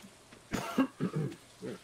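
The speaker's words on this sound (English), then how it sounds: "I don't know why I keep coughing." A person coughs in a few short, harsh bursts close by, with brief gaps between them and quiet room tone around them.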